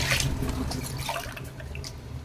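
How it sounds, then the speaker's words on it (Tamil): Water pours into a pot of soaked rice for chicken biryani, a steady close splashing stream with scattered drips and no talking over it. "ஸோ 8 டம்ளர் தண்ணி ஆட் பண்ணிக்கிறேன்"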